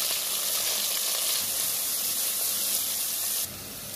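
Onions fry in a pan for a raw papaya and beef curry, making a dense, bright, steady sizzle up close that drops off abruptly just before the end, with no voices.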